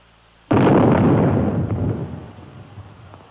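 A shell fired from the Army's 280-millimeter gun detonates in an atomic test, a sudden massive blast followed by a long rolling rumble that slowly decays, heard alone without voices.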